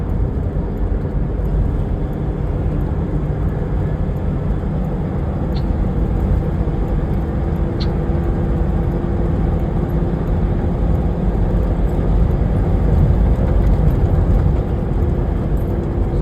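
Steady broadband road noise from a car on the Mumbai-Goa highway as it overtakes a bus, a constant loud rumble with a faint tonal hum and no speech.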